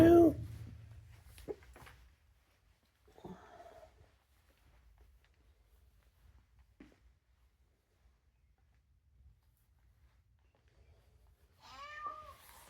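A grumpy cat meows a few times, brief faint cries separated by long quiet gaps, with a louder call near the end.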